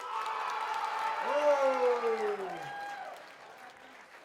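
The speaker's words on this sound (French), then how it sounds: "Maintenant, par applaudissement, qui a préféré cette personne?" A student show audience at a college in Terrebonne applauds to vote for a dancer, with clapping and cheering under a voice that exclaims and a few rising and falling whoops, swelling midway and then fading.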